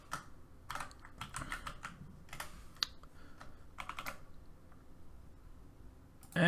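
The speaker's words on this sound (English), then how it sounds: "Ignore my bad typing." Bursts of quick typing on a computer keyboard, with uneven clusters of keystrokes separated by short pauses, close and moderately quiet, no talking.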